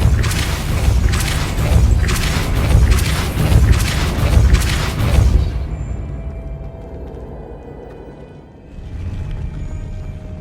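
Depulso, the force-pushing spell in the video game Hogwarts Legacy, goes off as a run of loud, rhythmic booming blasts over about five seconds, then gives way to a quieter low rumble and hum.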